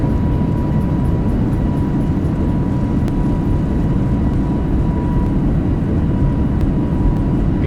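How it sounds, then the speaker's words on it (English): Boeing 737 MAX 8 thrust reversers deployed on landing in X-Plane 12, a steady loud broadband roar that holds evenly throughout with no talk over it. "reversers out"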